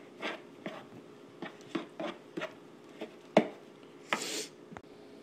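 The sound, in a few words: mixing coconut oil into bread batter in bowl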